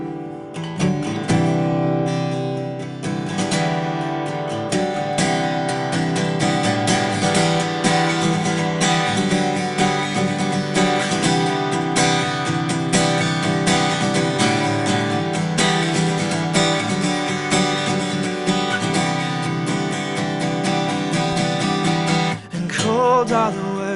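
A singer-songwriter from Raleigh, North Carolina, performs a song live in a radio studio, with a full, steady mix of instruments and voice that holds at an even loudness throughout.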